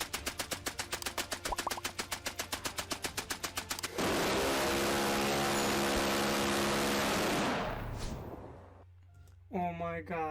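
Machine gun fire from World War I trench warfare rattles in a fast, steady stream of shots, then gives way to a loud roar of blasting noise and a voice.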